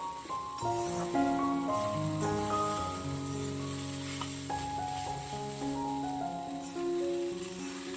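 Poha seasoned with salt and turmeric fries lightly in a pan, giving a faint, steady sizzle beneath soft background music.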